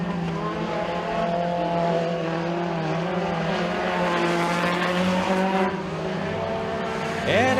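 Race cars roar around a motorsports park circuit on the final lap of a heat, a loud, sustained engine drone with shifting pitch and a brief tire squeal near the end.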